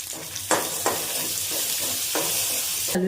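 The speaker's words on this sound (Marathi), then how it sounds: "त्यानंतर एक कांदा जो घेतला होता बारीक चिरून तो पण यामध्ये घालूया।" Finely chopped onion goes into hot oil with ginger-garlic paste and cumin for a dhaba-style kaju masala, making a continuous sizzle broken by repeated scraping stirs and a louder burst at the end.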